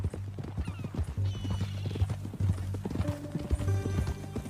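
Horse hooves clip-clopping at a steady walking rhythm in the video game Red Dead Redemption 2, close and clear, with an occasional whinny and game music tones underneath.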